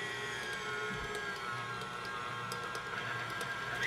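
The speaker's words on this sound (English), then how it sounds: "This will mix the flour for you and knead the dough, really." Stand mixer kneading whole wheat pizza dough, a steady whirring motor drone with faint knocking and rattling, close and continuous with no voices.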